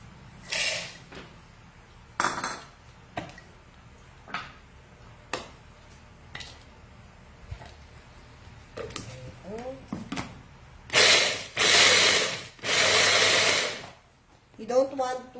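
Baked cashews are ground in a kitchen appliance, coming as short whirring pulses early on, then three longer, louder bursts of grinding near the end, with quiet gaps between.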